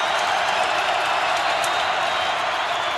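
Stadium crowd noise at a North Dakota State home playoff football game against Wofford: a dense, steady roar of many voices, loud and unbroken, with no distinct individual sounds standing out.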